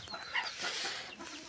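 Bearded hens clucking close by at a farm coop near a hidden nest of eggs, a short burst of soft, uneven clucks with no one speaking.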